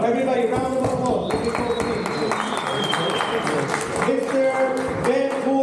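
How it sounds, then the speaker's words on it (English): An audience at a siyum ceremony applauds with dense, sustained clapping throughout, joined by crowd noise and a voice talking over it. "Everybody, round of applause."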